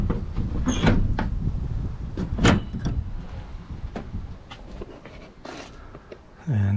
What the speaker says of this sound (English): But this door opens beautifully.